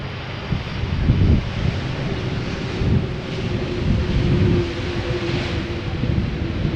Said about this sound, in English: Turkish A330, flight 1951, arriving from Istanbul.